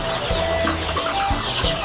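Crossbred three-breed chickens on a farm give soft, short clucks and murmurs at close range, low and steady under a hiss of ambient noise.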